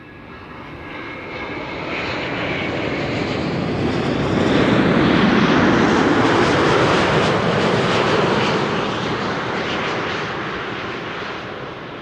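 A Boeing 787-9 Dreamliner arrives at Amsterdam Schiphol Airport from Tel Aviv. Its loud engine roar builds to a peak overhead and then slowly fades as it passes.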